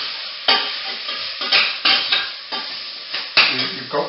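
Raw spices for bean makhani sizzle in a pan while being stirred, with crisp scraping bursts from the spoon recurring every half second or so over a low frying hiss.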